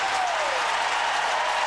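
A packed crowd roars in Death Valley's Memorial Stadium during the 1999 Clemson vs Virginia college football game, a loud, continuous wash of cheering and clapping with no break.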